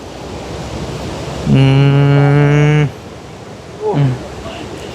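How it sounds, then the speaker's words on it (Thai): A river flows beside a coffee garden, cascading like a waterfall, with a steady close rush of water throughout and a voice briefly sounding over it. "มานี่ก็เสียงน้ำไหลเนาะเสียงน้ำไหล"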